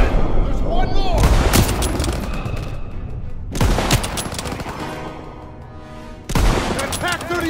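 Gunfire in the World War II shooter Call of Duty WWII during a battle: loud, sustained volleys of rifle and machine-gun fire with heavy bangs, rising in three separate surges, while soldiers shout orders over the noise.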